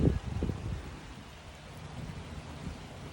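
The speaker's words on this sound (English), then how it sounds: "And we have thunder." Thunder rumbles low and distant near mountain ridges at the start, then fades into a faint, steady wash of rain. The whole scene is quiet and far off, with no voices.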